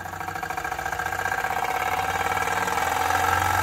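A new Wilesco D305 model steam engine runs under increased steam pressure, giving a steady, fast rhythmic chuffing and mechanical clatter that holds close and even, growing slightly louder as it speeds up.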